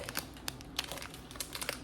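Plastic instant noodle seasoning pack crinkles and rustles in a quick run of sharp crackles as it is torn open and emptied, close and fairly quiet with no talking.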